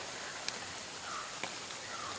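Rain falls onto the water of the Neyyar Dam reservoir in Kerala, a soft, steady hiss with a couple of faint drop ticks standing out.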